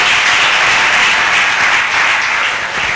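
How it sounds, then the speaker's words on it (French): A church congregation applauding at a sermon, a dense, steady wash of many hands clapping together for several seconds, loud and close, with no voices rising above it. "acclamez bien"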